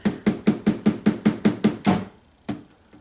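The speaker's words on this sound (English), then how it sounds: "now I'm hammering" Hammer nailing the back panel onto a piece of IKEA furniture: about nine evenly spaced, sharp strikes, close and loud, then a pause and one last blow.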